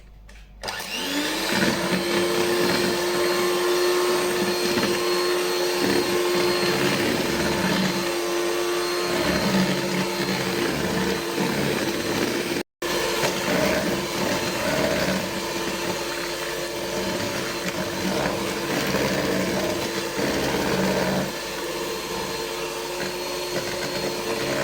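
Electric mixer beating chocolate chip muffin batter, a loud steady whirring drone that runs almost without pause, with one very brief cut-out midway.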